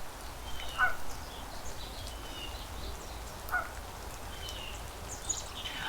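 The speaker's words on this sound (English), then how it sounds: "Can you hear all the birds?" Birds call outdoors on a spring day in Colorado, a few scattered chirps and short calls standing out at a distance over a faint, steady background hiss.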